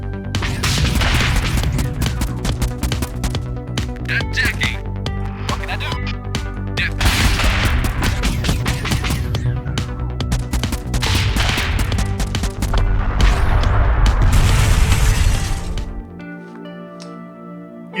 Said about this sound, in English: Shooting the enemy.